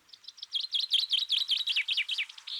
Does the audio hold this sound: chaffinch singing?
yes